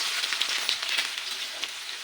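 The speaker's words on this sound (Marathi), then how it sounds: "त्याची फोडणी देऊन घेते मी आता कांदा घालणार आहे" Chopped onion sizzles in hot oil with a cumin and mustard seed tempering. The hiss and crackle is dense and continuous, close by and fairly loud, with no voices.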